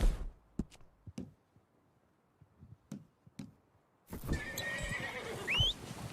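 In the game Red Dead Redemption 2, a few sharp hoof knocks spaced apart, then a loud horse neigh and whinny rising over clattering hooves nearby.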